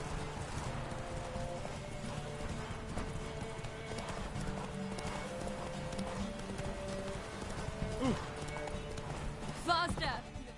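Hoofbeats of Roach, a horse in The Witcher III: Wild Hunt, clip-clop steadily at a gallop throughout, with a whinny near the end and someone talking over the hooves.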